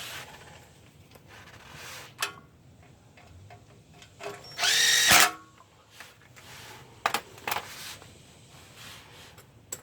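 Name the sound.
power tool running up oil pan bolts on Jeep Wrangler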